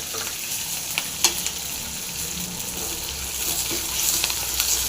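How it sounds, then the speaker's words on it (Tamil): Onions frying with pepper, green chilli and ginger in a pan while making ven pongal from ration raw rice, a bright hissing sizzle with sharp scraping and tapping of a ladle, close and steady, rising slightly toward the end. "வெங்காயம் நல்லா ஃப்ரை ஆகணும்"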